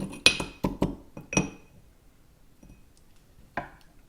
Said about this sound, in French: Avec un pilon, je vais venir écraser mon cube de sucre et je vais brasser un petit peu